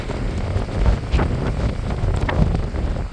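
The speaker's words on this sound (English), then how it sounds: "It is very windy here." Gusty wind on Dartmoor batters the microphone in a constant low roar, swelling in a few stronger blasts, with nobody speaking.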